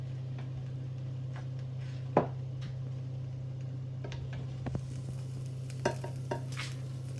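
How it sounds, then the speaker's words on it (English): Chicken being basted with its pan juices in a hot pan, giving a steady low sizzle with a few sharp clicks and spoon taps, close and moderately quiet with no talking. "So I am basting it, putting all that juice back on top of it."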